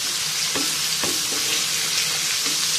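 Fish shallow-frying in a pan, a steady dense sizzle and crackle of hot oil running continuously and close, with a few soft knocks from stirring and no talk.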